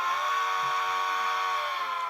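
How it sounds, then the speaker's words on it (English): Model steam locomotive sound decoder sounding its whistle, a steady sustained tonal blast held throughout, close and even with no talking. "you can just quickly test the whistle"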